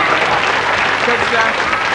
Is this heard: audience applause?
yes